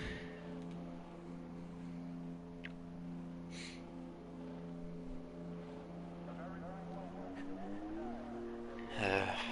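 A single race car laps a track at Baku in a Torpedo League race, its engine droning steadily at a distance with shifting pitch, faint and continuous under commentary.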